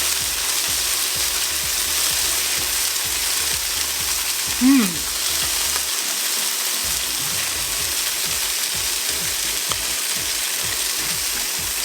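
A vegan veggie melt with garlic sizzles loudly in a hot pan after water is poured in to steam and melt the cheese, a steady hiss and crackle filling the whole stretch with a brief squeak midway.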